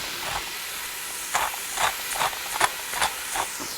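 A pound and a half of ground hamburger sizzles in a Ninja Foodi, a steady close hiss with several brief louder spatters and pops and no talking.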